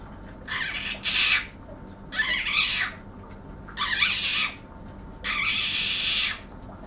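A voice imitates a frog being eaten by a snake: four harsh, raspy hissing squawks, each about a second long, separated by short pauses.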